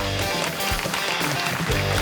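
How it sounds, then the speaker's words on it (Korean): Dense, steady applause from an esports audience welcoming the CJ Racing team before a KartRider Battle Royale semifinal, a continuous wash of clapping with little talk. "CJ 레이싱을 박수로 환영해 주시길 부탁드립니다"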